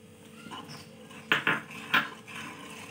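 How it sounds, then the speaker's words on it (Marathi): Cashews, almonds, pistachios and raisins are stirred into a thickening sweet mixture in a pan, with soft scraping and a few sharp metallic clinks of the spoon against the pan, faint and close, with no talk. "छान मिक्स करून घ्या।"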